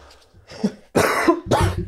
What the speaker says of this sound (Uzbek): hozir yo'talib beringlar